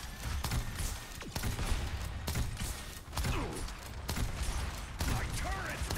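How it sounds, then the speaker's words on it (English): Rapid gunfire and metallic impacts pound a turret during a video game firefight, dense and continuous, with crackling bursts layered over mechanical creaks. "My turret's getting hit!"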